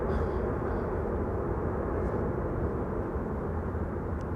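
A KLM airliner passes by outdoors, a steady broad jet roar that holds at an even loudness throughout, with no speech over it.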